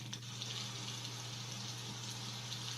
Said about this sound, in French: Là, la pluie,